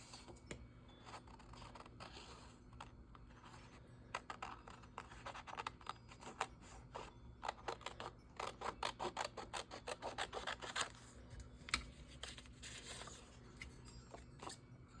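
Scissors cutting out a paper figure, with a run of quick snipping and rustling paper close by, faint at first, then a dense rhythmic burst of cuts in the middle before it tapers off.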